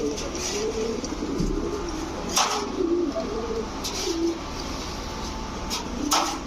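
Paired pigeons, including an old-breed fancy type, coo in low repeated murmurs close by, with occasional sharp clacks and bumps from the loft.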